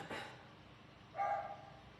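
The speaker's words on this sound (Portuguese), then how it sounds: "me perdoe aí pelo barulho das cachorrinhas" Small female dogs barking indoors, two short yaps about a second apart, moderately near and without speech.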